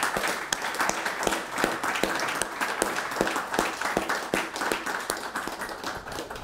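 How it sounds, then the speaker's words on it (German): Studio audience applause in a German television talk show studio, a steady run of clapping with distinct individual claps standing out over the crowd, moderately loud and lasting the whole stretch. "Und das ist Ihr Applaus aus Berlin nach München."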